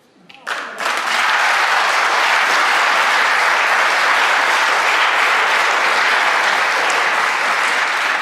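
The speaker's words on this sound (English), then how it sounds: "Biggest clap of the night." A studio audience at an election debate between Sunak and Starmer erupts into loud, sustained applause that swells within the first second and holds steady as a dense wash of clapping.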